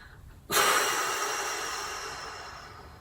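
A single sharp, forceful exhale through the mouth after a held breath during a relaxation breathing exercise, starting abruptly and trailing off slowly as a long airy rush, close and alone.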